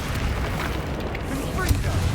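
Fiery spell blasts burst from Confringo casts during Hogwarts Legacy combat, heavy booming rumbles rolling continuously with a sharp pop near the end, while someone talks over the action.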